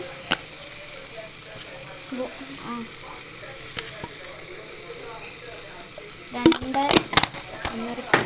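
Turmeric, chilli powder and spices are stirred in a frying pan over a soft, continuous sizzle. A few spoon scrapes come through early, then a burst of louder clatter and scraping near the end.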